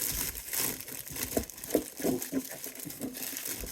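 Cellophane wrapping crinkles and tears off a Lattafa Khamrah Qahwa perfume box, close up, in irregular crackling bursts that keep going steadily with no talking.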